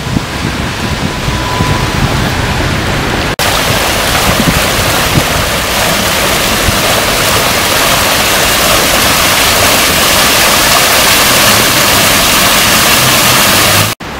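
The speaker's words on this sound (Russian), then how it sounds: "Вон я там впереди вижу прикольный фонтан." Water from a street fountain in Riga splashes and rushes in a dense, loud, continuous hiss, close by and steady for the whole stretch with no voices.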